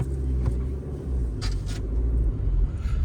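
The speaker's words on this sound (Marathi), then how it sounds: "त्या फुल टर्नला दोनदा रिवर्स घ्यावी लागते गाडी" A car climbs a steep, snowy mountain road with tight hairpin turns near Shimla, its engine giving a steady low rumble close by throughout, with a few brief faint clicks over it.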